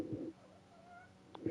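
A pet cat gives a faint, short meow at the very start, a thin tonal call that is quickly over, followed by a wavering softer sound and a quiet room; a brief clatter comes at the end.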